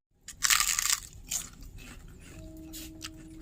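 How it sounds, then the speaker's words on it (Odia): Crunchy fried papad is bitten into, a loud close crunch followed by a few softer chewing crackles, then a faint tone in the background. "ଆଉ ଟେଷ୍ଟ କରିବା ଏବେ ଭଲ ଛାଣି"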